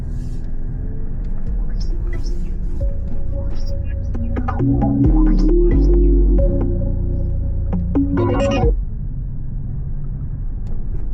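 Song playing through the Burmester sound system in a Mercedes GLE 53 AMG, heavy bass tones and melody over a low cabin rumble, loud and close, swelling in the middle and then cutting back to engine hum.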